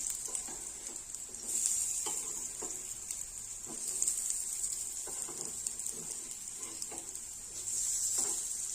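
Soya tikki patties sizzle steadily in a hot pan while being turned to brown on both sides, a continuous fizzing hiss with soft scraping taps from a spatula, swelling louder in a few stretches.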